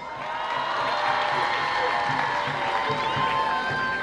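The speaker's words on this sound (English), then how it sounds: "Clap for yourselves." Commencement audience applauding together with cheering and crowd noise, a dense, steady roar of clapping and voices held loud for the whole stretch.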